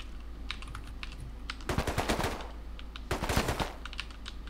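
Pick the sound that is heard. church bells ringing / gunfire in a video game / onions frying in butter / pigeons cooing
gunfire in a video game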